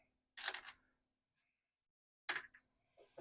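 Screws are set back into a Commodore 1541 disk drive casing, heard as two short clusters of close metallic clicks and rattles separated by a quiet gap, followed by a couple of faint ticks.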